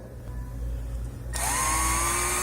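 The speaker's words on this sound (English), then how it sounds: "Make sure to get the appropriate size drill bit for that little hole" A power drill spinning up and boring a small hole in a BMW E46 intake connector, a low motor hum that jumps to a loud steady high-pitched whine halfway through.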